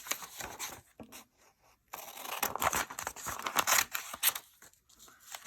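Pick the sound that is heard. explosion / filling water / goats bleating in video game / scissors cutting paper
scissors cutting paper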